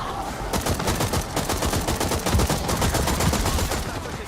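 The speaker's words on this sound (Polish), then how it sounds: "Ej, co to mnie strzela?" Gunfire in the video game I Hawked pelts the player in a rapid automatic stream of loud, sharp shots. The bursts run almost without a break for several seconds.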